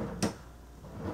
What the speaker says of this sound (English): have a drawer right here on my drawer unit where I keep my hard drives and receipts